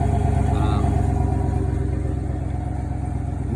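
A 2020 Chevy Silverado Trail Boss engine fitted with a K&N air filter idles steadily nearby, a deep, even rumble with a pulsing low throb and no voices.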